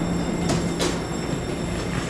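Passenger train arriving at Tainan station on the Puyuma Express, a steady rumble of rolling wheels with faint brief squeals, no talk.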